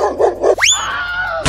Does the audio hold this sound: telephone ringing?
no